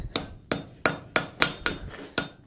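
Steady, ringing hammer blows on hot metal on an anvil while forge welding a butt joint, seven strikes at an even pace, loud and close with no talking.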